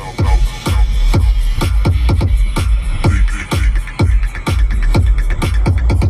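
A Range Rover HSE stereo plays loud inside the cabin, with heavy booming bass thumping in a steady beat throughout.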